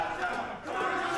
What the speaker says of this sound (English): The crowd getting behind Cha-Cha, though.